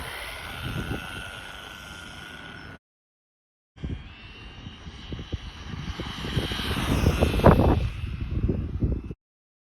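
A Rlaarlo X12S RC car with a Jiusi WB12Pro motor makes a speed run, its whine and rumble heard from a distance, cutting out briefly, then growing louder as it approaches before stopping abruptly.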